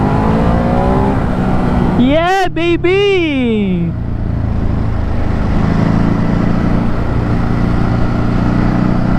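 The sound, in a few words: Ducati Hypermotard 950 RVE motorcycle being ridden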